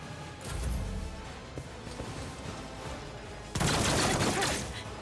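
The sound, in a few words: gunfire in the video game Warhammer 40K: Rogue Trader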